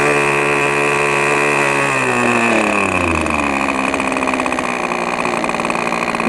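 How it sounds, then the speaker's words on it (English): A radio-controlled model airplane engine on a Great Planes PT trainer drops from a higher throttle setting down to a steady low idle, a continuous buzzing drone that falls in pitch and then holds, close and loud. "we're down to a nice enough idle where we'll be able to taxi the engine on the ground"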